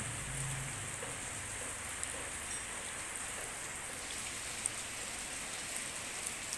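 Light drizzle falls steadily over a village, a soft, even patter with faint scattered drops, continuous and fairly quiet with no voices.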